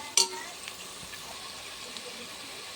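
A spoon scrapes once sharply through pav bhaji in a pan, then a soft, steady sizzle carries on with faint stirring scrapes, while someone talks over it.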